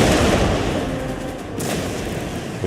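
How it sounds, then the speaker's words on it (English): Cannon fire in the video game Total War: Empire, playing as England: dense, continuous booming rumble of battle with a sharper burst midway, steady and loud throughout. "we can switch to cannon fire here."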